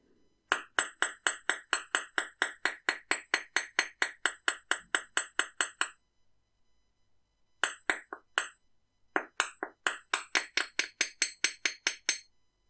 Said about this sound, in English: And then we can hammer the top part of the pendant.